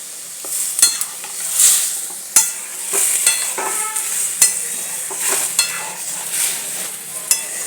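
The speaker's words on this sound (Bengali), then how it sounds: "এই ডাঁটাগুলো দিয়ে দিলাম, দিয়ে একটুখানি আমি এতে পোস্ত সরষে বাটা দিয়ে দিলাম।" Vegetable stems frying in a pan with poppy-seed and mustard paste, stirred with a utensil: a steady close sizzle broken by repeated scraping strokes and light clinks of metal on the pan, with no talking.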